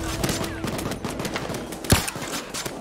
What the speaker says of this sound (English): They keep shooting while I'm reviving you.